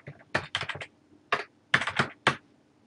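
Quick bursts of keystrokes on a computer keyboard, close and crisp, in three or four short clusters with brief pauses between them, no voices.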